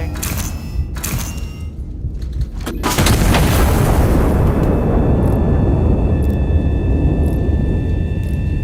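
A heavy turret in Iron Nest fires a shell: sharp broadband blasts in the first seconds, then a loud, deep, sustained rumbling explosion that rolls on and slowly decays, with faint high tones ringing over the tail.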